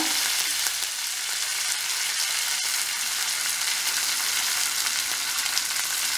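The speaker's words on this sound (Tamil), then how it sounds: "இப்போ கடுகு நல்லா பொறிஞ்சிருச்சு" Mustard seeds spluttering and crackling in hot oil with a torn dried red chilli, a dense continuous close sizzle with no voices.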